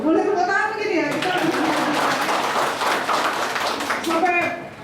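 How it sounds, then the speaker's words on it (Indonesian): Church congregation at a first service in a new building breaking into applause, a sustained burst of clapping that starts just after a voice and fades as he speaks again over the tail. "Boleh tepuk tangan mungkin ya?"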